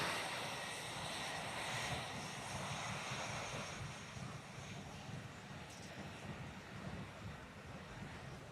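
Boeing F-15 fighter jet in Qatari Emiri Air Force colours flying at the Farnborough International Airshow, a steady broad jet roar with wind noise that swells early and then holds at a slightly lower level throughout.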